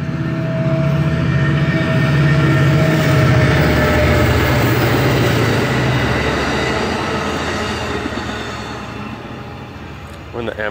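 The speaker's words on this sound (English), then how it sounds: "Amtrak train goes by" An Amtrak passenger train passes close by with a loud, steady rumble of wheels on rails and clattering cars that slowly fades toward the end, and voices are heard over it.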